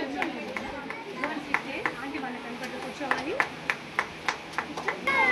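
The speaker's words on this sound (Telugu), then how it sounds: "మమ్మీకి క్లాప్ చేయాలిగా" Children at a preschool Women's Day celebration clap for their mothers, a string of scattered, uneven claps picking up toward the end amid adult voices and room chatter.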